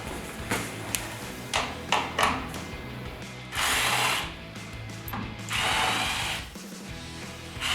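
Hand ratchet loosening 7mm bolts from a truck's lower air shroud, with several quick clicking pawl bursts and two longer rasping ratchet runs, close and clear with no talking.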